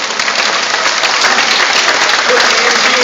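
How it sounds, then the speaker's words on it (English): Dense, steady audience applause fills the stands at the Shedd Aquarium dolphin show, loud and unbroken for the full few seconds. "Have a nice round of applause"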